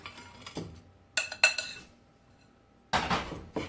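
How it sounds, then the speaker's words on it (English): Crust mixture for a pie is moved into another pan with a few sharp metal clinks and scrapes of utensil on pan, in short close bursts separated by quiet pauses. "we're going to transfer that over to the other pan"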